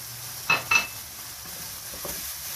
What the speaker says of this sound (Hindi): बहुत अच्छे से मसाले को अच्छे से भूनना है। और मसाला साथ साथ भुनेगा।